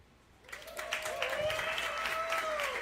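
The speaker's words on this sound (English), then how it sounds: "Keep that energy going, and a big round of applause for our first batch of candidates tonight." Audience applause at a queer candidate forum in Seattle, starting abruptly after a quiet moment and building into a steady wash of clapping from the crowd, fairly soft, with a faint sustained tone running beneath.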